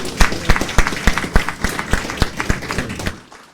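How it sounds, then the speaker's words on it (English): A small audience gives a short round of applause, a loose patter of individual claps that rises quickly and then thins out and stops after about three seconds. "A Thank round of applause, everyone."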